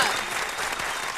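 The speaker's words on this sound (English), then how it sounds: "Round of applause." A studio audience claps in a dense, steady burst of applause, loud and close, fading slightly toward the end.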